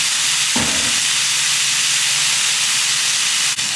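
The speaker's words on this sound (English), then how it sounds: "So now to our pan, we're going to add in our pineapple. Same thing. Just want to brown it a little bit." Pineapple from cans browning in a hot pan gives a loud, steady close sizzle and hiss throughout, with a brief low thump near the start and no talk.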